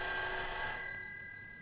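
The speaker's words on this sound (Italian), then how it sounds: "Lo lasciamo squillare senza rispondere?" A telephone rings with a bright bell tone that sounds for about half the time and then fades into a lingering resonance, close and alone.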